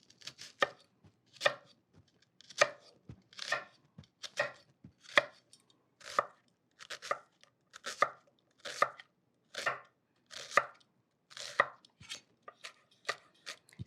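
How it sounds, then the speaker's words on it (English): An onion being diced with a knife on a cutting board, about a dozen distinct close chops in an uneven rhythm with brief pauses between them. "Okay, so let's get the dicing happening."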